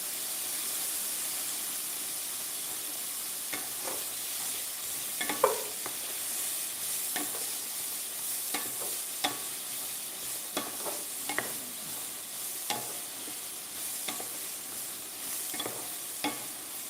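Shrimp and vegetables frying in a stir-fry pan for a sweet and spicy shrimp, vegetable and rice dinner, with a steady close hiss of sizzling broken by repeated scraping and stirring clicks. No one speaks.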